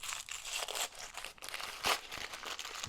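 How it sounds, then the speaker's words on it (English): Plastic packaging crinkles and tears close up as a steel drive gear for a 1/6 scale Armortek Jagdpanther RC tank is unwrapped, with quiet, continuous rustling and a sharper rip near the end. "we're going to unwrap one of these"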